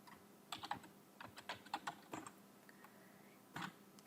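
A computer keyboard clicks quietly and close as a short command is typed in uneven bursts of keystrokes, ending with a firmer press of the enter key.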